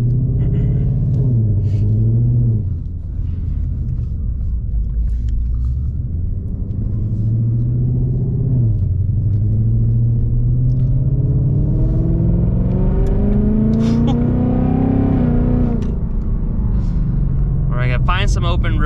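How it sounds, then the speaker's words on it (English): A 2024 Ford Mustang GT V8 fitted with long tube headers and active exhaust, heard from inside on the road, pulling through gears with a loud, rising exhaust drone and engine pitch climbing in several sweeps between shifts. "Find some open roads so we can really open this thing up and hear the exhaust, hear how it feels."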